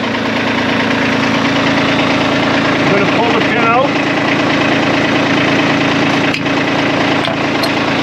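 A Kubota tractor with a BH77 backhoe idles steadily and loudly throughout, a constant low rumble with someone talking over it.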